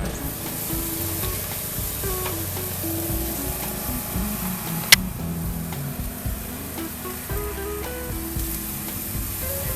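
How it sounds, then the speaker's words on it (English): Steaks sizzle loudly and steadily on a hot cooking surface, a continuous dense hiss with crackle and one sharp pop near the middle, and no voices. "we're gonna let these steaks cook for about 5 minutes aside"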